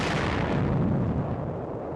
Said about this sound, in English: Tank destroyers are brought up to pound the caves.